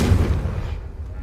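A Confringo fire spell blast from the Hogwarts Legacy video game: a loud, close, low booming burst at the start that rumbles and fades over about a second.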